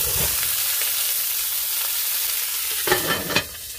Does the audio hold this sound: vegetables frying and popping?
yes